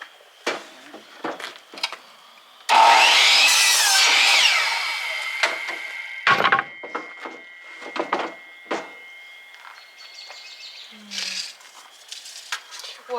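Handsaw cutting through deck lumber outdoors, a few seconds of dense rasping strokes followed by scattered knocks, scrapes and shuffling, with people talking nearby.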